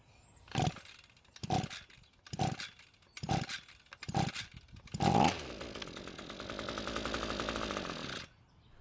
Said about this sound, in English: So after a few pulls, it finally started and ran for a bit